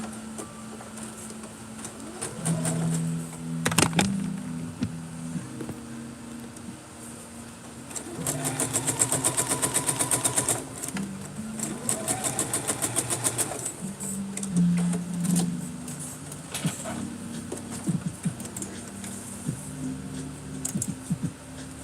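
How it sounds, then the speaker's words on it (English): A sewing machine runs a basting stitch at 5/8 inch on a McCall's 8193 cosplay garment, whirring in several short bursts of motor hum and needle rattle, with pauses and handling noises between runs. "I just take mine to the machine and I just run a quick little basting stitch at 5/8"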